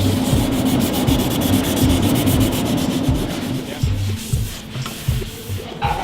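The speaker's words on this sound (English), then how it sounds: "giving a final sand on the bond joint to make sure that it's perfectly smooth" A bicycle frame's bond joint gets a final sanding in a bike-building workshop; steady, loud abrasive rubbing with rhythmic strokes runs through the whole stretch, easing slightly toward the end, with no talking.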